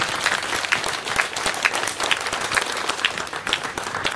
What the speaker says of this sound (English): I'd like you now to give a round of applause to Green Senator Scott Ludlam